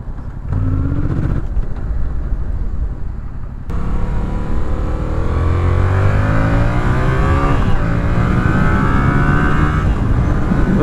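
A Yamaha MT-07 motorcycle engine revs up through the gears with a rising, throaty drone, shifts causing brief dips before the pitch climbs again, loud and close with no talking.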